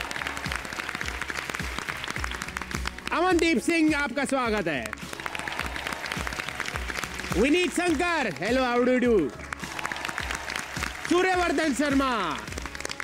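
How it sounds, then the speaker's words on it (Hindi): Audience applause on a Hindi poetry competition show as the Super 8 contestants are welcomed one by one, a steady clapping bed running under a host's voice announcing names. "जोरदार तालियों से स्वागत कीजिए श्वेता सिंह"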